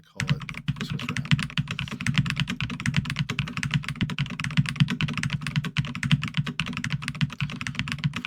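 Rapid, steady clicking of a computer keyboard as Excel shortcuts are typed, close and crisp, the keystrokes running continuously on their own with no talking.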